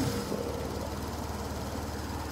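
A BMW R850R flat-twin motorcycle engine runs steadily while riding, a low, even rumble with a pulsing beat and wind noise over it, heard close and at moderate loudness.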